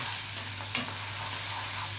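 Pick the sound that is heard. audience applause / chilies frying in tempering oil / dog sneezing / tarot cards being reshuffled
chilies frying in tempering oil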